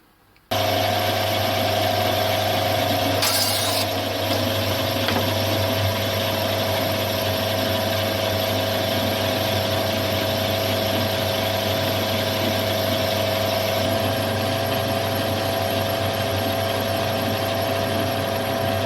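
Steady mechanical hum of a metal lathe running continuously, with a constant low drone and faint high whine, close up and unbroken.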